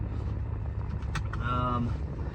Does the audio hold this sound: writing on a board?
no